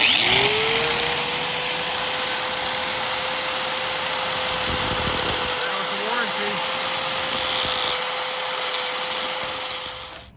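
A cheap Harbor Freight angle grinder with an abrasive disc grinds metal on a souvla rotisserie grill build, a steady loud whine running throughout the clip with brief voices underneath.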